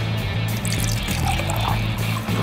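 Coloured water pours into a cup for a small science color-mixing experiment, a steady close trickle running throughout with no talking.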